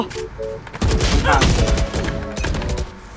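Rapid gunfire in the tactical shooter Valorant, a dense burst of shots after a quieter start, with some speech underneath.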